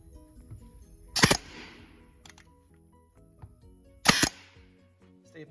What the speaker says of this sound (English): staple it together